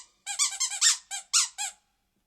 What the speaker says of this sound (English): Everyone needs a squeaky lobster.